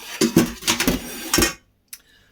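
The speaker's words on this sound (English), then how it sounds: "Take the other pan back." A cooking pan used for chicken soup is lifted and moved, giving a quick run of metallic clanks and scrapes for about a second and a half, then silence and one last light knock.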